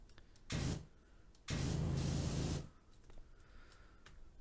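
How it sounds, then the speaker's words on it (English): A pressure washer sprays in PowerWash Simulator, two loud hissing bursts, one short and one about a second long, separated by quieter gaps. "So that one, and spray, spray, spray, spray"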